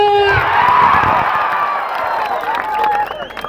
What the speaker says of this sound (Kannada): ಈಗ ನಮ್ಮ ಮಂದಿ ಚಪ್ಪಾಳೆ ಹೊಡಿತಾರೆ ನೋಡಿ